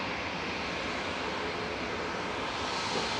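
An Aer Lingus UK airliner comes over the runway threshold at Manchester Airport, its steady broadband jet roar holding at an even, moderate level throughout with no voices.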